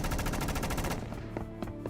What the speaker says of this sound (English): drowned out by another burst of gunfire